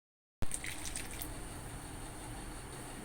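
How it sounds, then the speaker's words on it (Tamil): A small amount of water poured into ground coconut paste for a chicken kulambu with drumstick and potato, a steady close-up trickle and splash that starts abruptly and continues evenly. "நான் இதில் கொஞ்சமாக தண்ணி ஊற்றி மிக்ஸ் பண்ணி அதையும் சேர்த்துக்கலாம்."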